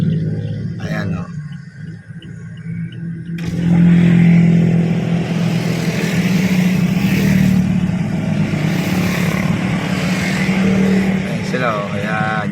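A car drives past on a road, its engine hum swelling from about the fourth second and holding steady, with people talking nearby.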